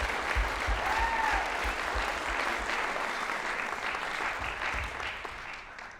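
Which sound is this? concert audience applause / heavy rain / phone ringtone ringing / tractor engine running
concert audience applause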